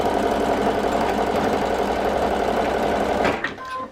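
A sewing machine stitching Christmas quilt blocks together runs at a constant, loud, rapid mechanical whir for about three seconds, then stops abruptly, leaving faint clicks and a quiet tail.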